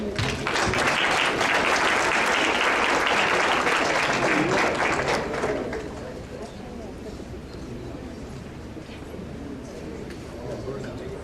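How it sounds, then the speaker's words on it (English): Audience applause at a volunteer honoring ceremony: a burst of vigorous clapping from a seated crowd that holds strong for about five seconds, then thins to scattered claps and room murmur. "Let's give a round of applause for Mary Twilley."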